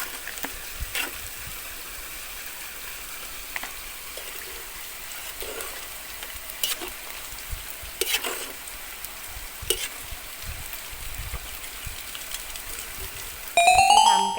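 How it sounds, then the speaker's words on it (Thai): Snakeskin gourami fish frying in hot oil, a steady close crackling sizzle with occasional sharper pops, continuous throughout with no talk. "แล้วเราก็มาทอดให้เขาเหลืองหน่อยๆนนะคะ"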